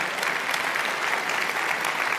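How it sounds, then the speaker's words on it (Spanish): A church congregation claps together in worship, an even, continuous roar of many hands at fairly loud level, unbroken by speech for the whole stretch. "Vamos a darle un fuerte aplauso al Señor, iglesia."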